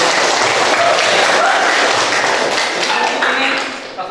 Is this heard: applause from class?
yes